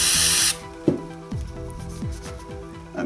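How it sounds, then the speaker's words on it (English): A short hissing spray of cleaner onto a towel opens the clip, then gives way to quieter rubbing and handling noises during a Yamaha GTS 1000 brake caliper rebuild. "Then I spray the towel"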